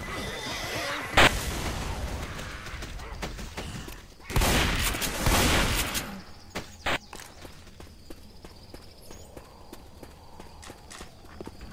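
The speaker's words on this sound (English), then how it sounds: "Pipe bomb out!" A pipe bomb blows up in the zombie shooter Left 4 Dead 2 with a loud burst, then a second heavy blast follows and scattered clattering and crackling trail off behind it.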